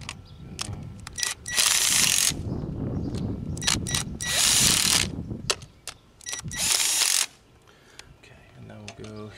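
A hand ratchet snugs valve cover bolts on a Saab 9-3 2.0T engine, giving bursts of fast, close clicking separated by short pauses, with some faint handling noise between them.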